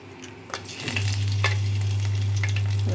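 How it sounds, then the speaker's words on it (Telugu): Whole spices such as cardamom, cloves and a cinnamon piece dropped into hot oil in a kadai, a quiet start then a sudden loud sustained sizzle with light stirring, no talk. "ఇప్పుడు సరిపడా నూనె పోసి కడాయిలో ఈ మసాలా దినుసులు వేసుకుందాము."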